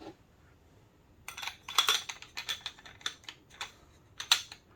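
Several small, sharp metallic clicks and taps in quick, uneven succession as a PepperBall carbine mechanism clicks into place, close up and fairly quiet, with no voices.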